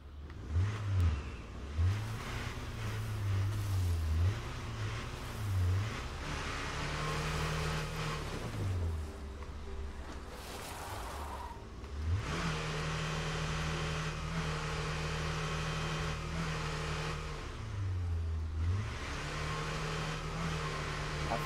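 A damaged car engine in the video game State of Decay 2 revs up and down repeatedly, rough and droning, its pitch wavering unevenly with a strained, faulty character throughout.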